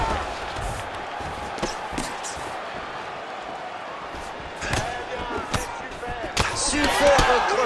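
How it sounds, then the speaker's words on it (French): A kick lands with a sharp slap during a UFC mixed martial arts bout between Cory Sandhagen and Henry Cejudo, one of several crisp impacts over steady arena crowd noise beneath continuous commentary. "Un coup de pied qui claque."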